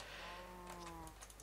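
Cow mooing in Minecraft with the FTB Unleashed modpack, a low, drawn-out bovine moo with a steady tone lasting over a second, quiet and clear against faint game ambience.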